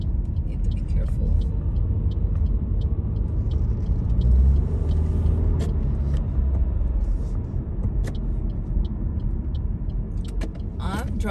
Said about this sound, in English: I'm driving around here